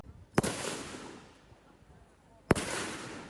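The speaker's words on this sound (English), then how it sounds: "Gunshots ring out at this makeshift shooting range deep in the forests of Myanmar." Two sharp gunshots crack out about two seconds apart at a makeshift shooting range in a Myanmar forest, each followed by a short fading echo over quiet woodland background.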